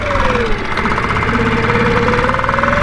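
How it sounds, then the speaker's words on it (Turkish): A sailboat's small motor runs roughly with a loud, close, rapid knocking rumble and a wavering tone, alone for a few seconds. "bu motor bazen böyle yapıyor kerata"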